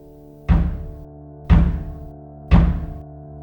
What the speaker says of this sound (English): Then a loud knocking of the great wooden door.